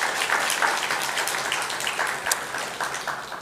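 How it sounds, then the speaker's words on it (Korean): A church congregation applauds during a Sunday morning service at a Methodist church, a steady wash of many hands clapping at moderate level throughout, fairly even with no talk over it. "박수로 감사하시기 바랍니다"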